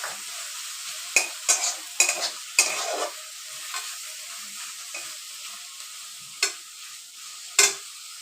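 Red amaranth greens sizzle in a pan, a low steady crackle punctuated by several sharp scraping stirs of a spatula against the metal, close and distinct, with quieter stretches between strokes.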